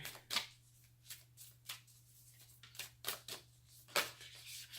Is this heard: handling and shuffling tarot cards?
yes